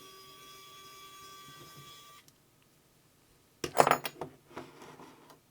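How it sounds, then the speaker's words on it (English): A small electric motor in a Hasselblad 50mm lens barrel, during shutter repair, whirs steadily with a thin high whine for about two seconds, then stops; a few louder clicks and handling knocks follow. "You can listen to that little motor go."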